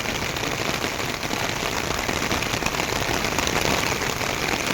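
Steady heavy rain pours down over a residential colony, a dense, even hiss of drops on roads and roofs that continues without a break, close and loud, with no voices.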